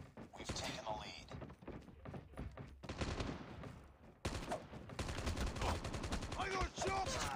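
Gunfire in the Call of Duty video game, with bursts of rapid shots and thudding impacts amid dense game noise, played fairly quietly with voices talking over the action.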